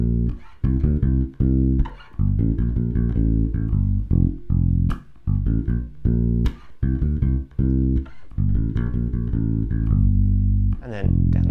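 Bass guitar playing the line from a song, a steady run of short, punchy low notes with brief gaps between phrases, loud and close with no talking.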